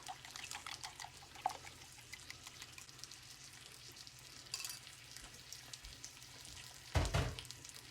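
Green chiles cook in a pan over medium-low heat, giving a soft, continuous sizzle with scattered crackles and pops, plus a louder clatter or stir near the end; nobody talks.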